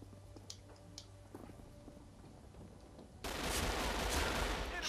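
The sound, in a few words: gunfire in a video game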